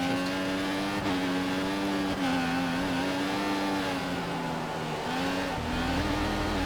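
An F1 race car engine from the game F1 2014 at China qualifying, a steady high-pitched whine revving and holding with slight pitch wobbles, with a brief shift dip near the end, continuous and fairly loud.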